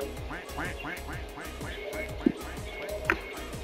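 A duck in a Roblox video game quacks repeatedly in a steady rhythm, with people talking over the calls.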